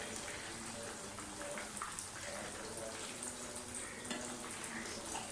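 Chicken pieces fry in hot oil in a pan for a crispy fried chicken recipe, with a soft continuous sizzle and crackle, fairly quiet and steady.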